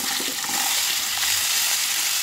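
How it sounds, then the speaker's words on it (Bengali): Cauliflower florets frying in hot oil over a high flame, giving a steady, close, continuous sizzle and hiss throughout with no talk. "এখন ওই তেলে আমি ফুলকপিগুলো দিয়ে দেবো"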